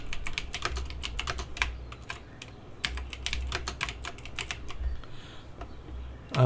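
Rapid, irregular keystrokes clatter on a computer keyboard as text is entered in a CorelDraw design, close and continuous with brief pauses, no voices.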